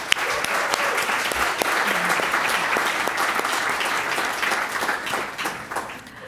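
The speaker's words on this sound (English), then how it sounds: "let's again give them all a big round of applause right now" An audience at the Garnet Athletics Hall of Fame 2022 ceremony gives the inductees a sustained round of applause, dense and even clapping from many hands filling the hall for several seconds before tapering slightly.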